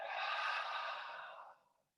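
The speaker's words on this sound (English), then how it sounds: "breathing in through the nose and letting it all pour out of the mouth with an audible exhale" A long audible exhale pours out through the mouth during a power yoga breathing round, a breathy, airy rush lasting nearly two seconds that fades out at the end, alone and close.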